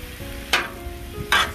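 French bread for Philly cheesesteaks heating on a Blackstone griddle, with a low steady sizzle broken by two sharp, bright scraping hisses of a spatula, close and alone.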